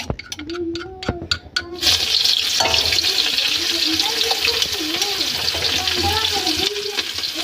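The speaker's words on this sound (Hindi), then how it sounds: "मैंने जो कि लहसुन और मर्च डाल दी हूँ और इसको अच्छे से मैं जैसे चला देती हूँ। देखिए भुजा रहा है ना।" Garlic and chili hit hot oil in a wok and fry with a loud, steady sizzle while being stirred, following a few sharp clinks at the start.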